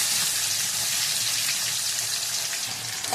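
Onions, curry leaves and whole spices sizzle in hot oil with a steady, close, hissing crackle that stays even throughout.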